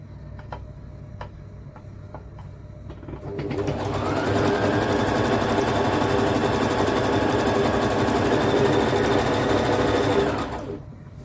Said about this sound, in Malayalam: ഡബിൾ ഫോൾഡ് ചെയ്യുക, ഇങ്ങനെ മടക്കുക, എന്നിട്ട് ഇങ്ങനെ തയ്ക്കുക